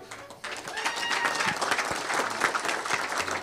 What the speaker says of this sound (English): give yourselves a great applause